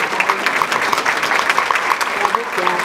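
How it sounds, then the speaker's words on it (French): Dense applause fills a room at a press conference about the Mercier lagoons, steady and moderately loud throughout, with a few faint voices mixed beneath the clapping. "Je pense que ça prend une bonne main d'applaudissements à Pierre."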